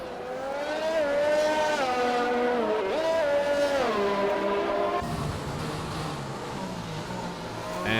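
A Mercedes race car pulls out of the pits in a racing game at Belgium's circuit, its engine whining through rising and falling gear changes. The sound is loud and continuous, then drops to a rougher, lower rumble as the car moves off.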